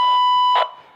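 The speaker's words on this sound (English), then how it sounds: "you get your solid tone here, and when that light is solid, it'll sound like this when you're going to ID a pair." A Fluke Pro3000 tone generator gives a steady, unbroken electronic beep tone, loud and close, sounding on its own for about a second before it cuts off.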